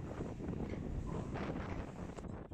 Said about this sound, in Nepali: हावा चाहिँ एकदमै धेरै चल्ने ठाउँ रहेछ यहाँनिर है अहिले पनि हावा चलिरहेको छ